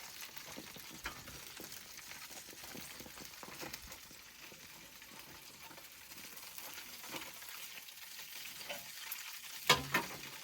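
Baby back ribs sizzle and crackle on a barbecue grill with a steady, faint frying hiss. A couple of louder pops or clatters come near the end, and no one speaks.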